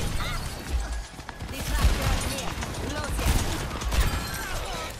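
Gunfire rings out in a match of the video game Overwatch 2, with several sharp shots and impact crashes amid busy game noise while a player talks over the action.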